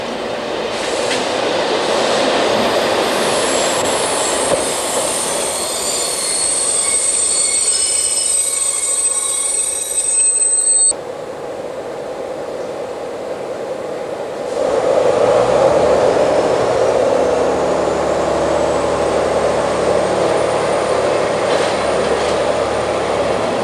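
A Caravelle X 4300 diesel railcar runs past on a suburban line out of Lyon Saint-Paul station, a loud steady rumble with wheel squeal and a brief clickety-clack, fading then building again close by.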